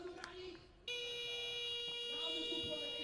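At a 3x3 basketball game, a shot clock buzzer cuts in abruptly and sustains as a loud, steady electronic tone over arena crowd noise.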